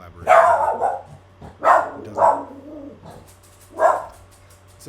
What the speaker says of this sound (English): So, my dog has started barking